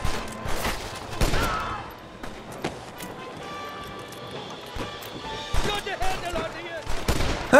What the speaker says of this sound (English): I didn't notice where the bullets were flying from.